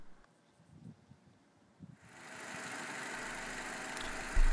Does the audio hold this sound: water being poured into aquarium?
no